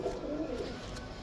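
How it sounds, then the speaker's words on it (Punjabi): A pigeon coos softly and steadily, a faint low murmur in a quiet setting with no voices. "ਇਹ ਕਬੂਤਰ"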